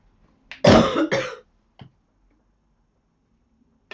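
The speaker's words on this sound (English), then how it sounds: "Thank you for being patient with my coughing." A person coughs twice in quick succession, close and loud, during a live craft-products show. A few faint clicks follow in an otherwise quiet room.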